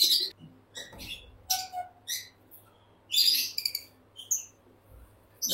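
Lovebirds at a breeding farm in Khulna give short, sharp chirps and tweets in scattered bursts over a quiet background, fairly close and not especially loud.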